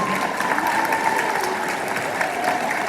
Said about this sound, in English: One more round of applause for our middle school choir for their performance today